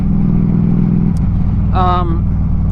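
Motorcycle trike cruising down a rough road, a steady low engine rumble throughout, briefly joined by a short higher whine midway.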